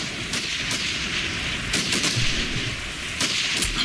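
Gunfire in the video game Trench: a few sharp cracks and booms scattered over steady ambient noise, fairly distant-sounding and unaccompanied by speech.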